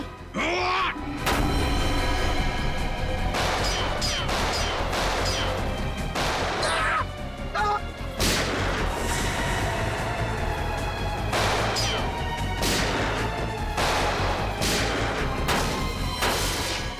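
Repeated sharp bursts of gunfire crack out in irregular clusters over a loud, chaotic background, with shouting voices in Hindi mixed in, in a TV crime drama scene.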